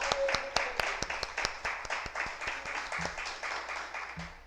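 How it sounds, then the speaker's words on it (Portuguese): A church congregation claps in praise at a service, with quick, rhythmic, evenly spaced claps filling the room and a few voices rising briefly beneath them. "Diga aleluia, aplauda o Senhor."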